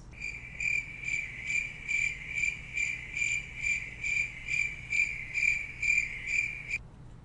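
Crickets chirp in a steady pulsing rhythm, about two trills per second, clear and continuous against a faint low background, then cut off abruptly near the end.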